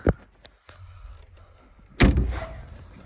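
A combine harvester's cab door, on a used machine inspected abroad, is pulled shut with a solid thud and a brief rattle, close and loud, following quieter handling sounds.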